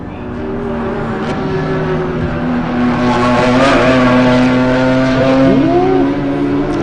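A GT3 race car at speed on the Buttonwillow circuit during a time-attack finals event, engine howling steadily with shifting pitch as it accelerates, brakes and sweeps through corners, loud and close throughout with no talking.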